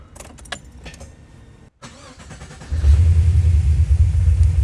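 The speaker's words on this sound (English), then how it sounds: "All right, let's do a crank." The LS V8 in a swapped Datsun 280Z cranks after some close clicks and jangles, then catches and settles into a loud, lumpy, rumbling idle.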